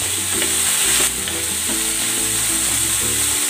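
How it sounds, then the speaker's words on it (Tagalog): Pork sautés with black pepper in a pan, a loud close sizzle and crackle that continues throughout, broken by the rhythmic scrape and knock of stirring. "Ilalagay ako ng paminta. At igigisa ko lang ito ng maigi."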